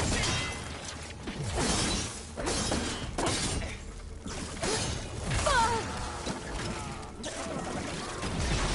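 Shattering effects in the video game Horizon Forbidden West, a series of crunchy breaking bursts mixed with whooshes and a dense game soundtrack, loud and busy throughout.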